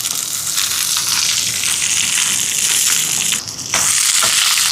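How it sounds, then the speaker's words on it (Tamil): Mustard seeds, fennel, dried chillies, curry leaves and shallots fry in hot oil with a loud, close, crackling sizzle that is continuous apart from a brief dip partway through, with no voices. "அதே எண்ணெயிலேயே சம்பலுக்கு சாரி தோசைக்கு தாளிப்போம் கடுகு கொஞ்சம் சேர்ப்போம் இதோட பெருஞ்சீரகம் இதோட செத்தல் மிளகாயும்"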